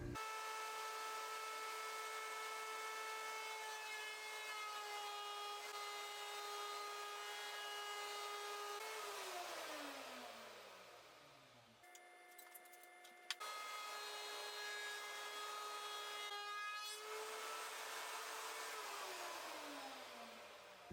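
Router cutting mahogany base trim for a boat cockpit, a steady high-pitched motor whine under load that drops in pitch twice as the cut ends, with a brief pause between runs, moderately loud and close.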